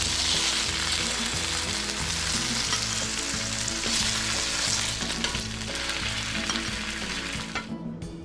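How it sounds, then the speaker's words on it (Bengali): Chicken breast sizzles steadily while frying in a pan, a dense, continuous crackle that holds for several seconds and tapers off near the end, with no talk. "চিকেন ব্রেস্টটা অলমোস্ট ভাজা হয়ে গেছে, সামান্য একটু লালচে লালচে ভাব চলে আসছে"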